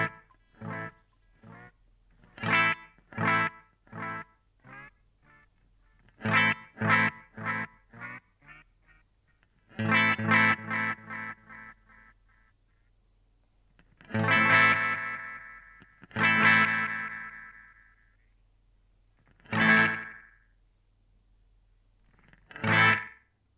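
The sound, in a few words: Boss DM-2W delay pedal repeats speeding up into slapback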